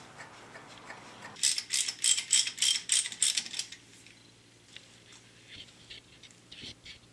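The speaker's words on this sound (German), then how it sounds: "Dann können wir den Stutzen mit der neuen Dichtung wieder einschrauben." Ratchet wrench clicking in rapid bursts as an exhaust fitting with a new seal is screwed back into a Porsche 911 SC, about eight close, sharp ticks followed by a few softer ones.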